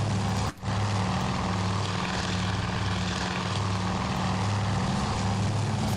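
A propeller warplane in the naval strategy game Task Force Admiral drones steadily and loudly, its engine a constant throbbing hum with no talk over it.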